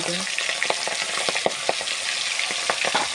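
Fish pieces crackle and sizzle in very hot oil in a home kitchen pan, a steady dense frying hiss with sharp pops scattered through it, close and loud, with no voices.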